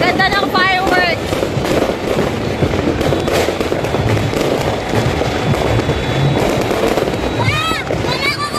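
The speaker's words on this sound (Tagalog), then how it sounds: "Ang ganda ng fireworks." New Year fireworks bursting outdoors, a dense continuous crackle and popping with whistling rockets rising, loud and close, with people talking and cheering over it.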